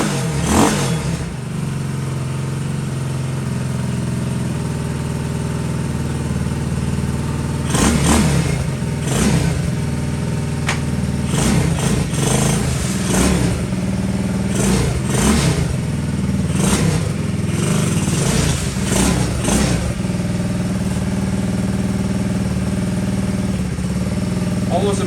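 A Honda CT70 motorcycle engine idles steadily and then revs up in repeated sharp bursts, loud and close, as a person speaks intermittently over it.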